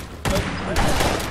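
A burst of rapid gunfire erupts in a multiplayer session of the video game Fallout 76, a sharp onset followed by a dense run of shots and another loud hit near the end.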